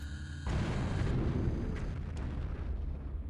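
An explosion in the Alien Invasion video game: a sudden loud, booming blast that rolls on as a rumbling roar and slowly fades over a few seconds.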